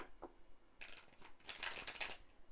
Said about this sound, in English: I'm shuffling them as well